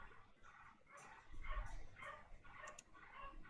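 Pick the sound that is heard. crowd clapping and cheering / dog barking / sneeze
dog barking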